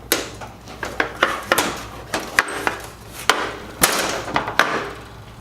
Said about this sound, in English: Flip the unit over onto its feet, being careful to hold onto the 2 top lids so they don't spring open during the process.